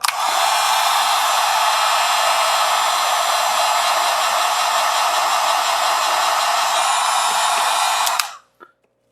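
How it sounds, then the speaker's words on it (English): A heat gun blows hot air onto a Fox Float 34 shock stud held with red thread-locker, giving a loud, steady roar for about eight seconds that cuts off abruptly. "so we need to use the heat gun, warm it up."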